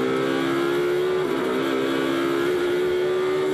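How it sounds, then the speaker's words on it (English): A Ferrari GT race car at Portimão during a Blancpain Sprint Series race, its engine holding a loud, steady high-pitched roar with a brief dip in tone midway, close and continuous throughout. "Fantastic sound from the Ferrari."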